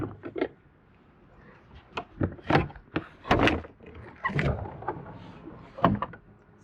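A back door is opened with a series of close thuds, knocks and sliding scrapes in irregular bursts, separated by quieter stretches.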